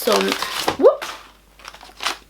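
Paper crinkles and rustles in a few short bursts as a beauty-product package is unboxed, following a brief spoken voice nearby.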